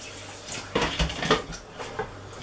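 Kitchen utensils clatter and clink in a drawer as someone rummages for a wooden spoon while baking raspberry and apple crumble squares, a close burst of metallic rattles with scattered knocks.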